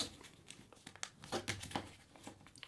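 Crinkling and creasing of a paper dollar bill as a corner is folded over, a faint, close series of crisp rustles and sharper snaps, with no one talking.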